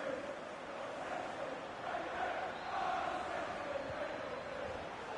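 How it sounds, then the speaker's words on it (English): Football stadium crowd in a career-mode video game roaring after a goal: a broad, sustained wash of cheering voices, distant and fairly quiet, swelling slightly mid-way and holding steady. "The crowd have gone crazy, and quite rightly so."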